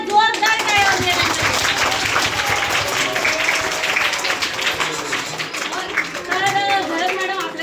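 A school audience claps loudly for a teacher at a Marathi quiz event, dense steady applause filling the whole stretch, with voices and cheers mixed in throughout.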